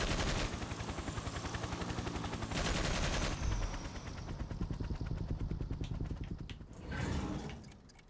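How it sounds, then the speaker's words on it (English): Machine gun fire in the Xbox game Toy Soldiers: Cold War: fast, evenly spaced rattling bursts with louder dense blasts between, moderately close and continuous, easing off and then flaring again near the end. "machine gun."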